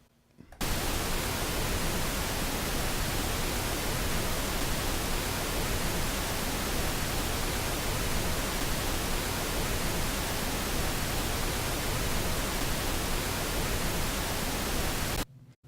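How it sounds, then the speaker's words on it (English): A continuous broadband hiss of pink noise test signal, steady and even in loudness, starting and stopping abruptly after about fifteen seconds. "let's listen to pink noise and also look at what it is doing across the frequency range"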